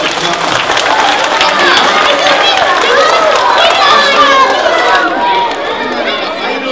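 Crowd noise at a school fire safety assembly, with clapping and scattered cheers filling the space, mixed with overlapping chatter and voices throughout.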